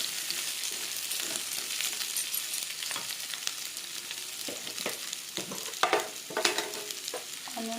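Onions for chili chicken fry in a pan with a continuous crackling sizzle, broken by repeated scraping stirs and sharper spatula knocks toward the end; no speech.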